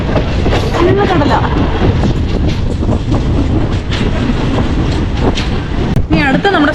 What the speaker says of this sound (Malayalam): അത്യാവശ്യം തരക്കേടില്ലാത്ത സ്പീഡിൽ തന്നെയാണ് ഈ ട്രെയിൻ പോകുന്നത്.